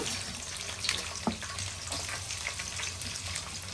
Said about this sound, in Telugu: ఇక్కడ ఉల్లిపాయలు వేసుకుంటున్నా